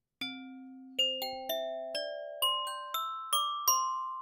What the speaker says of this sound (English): That nice glockenspiel sound.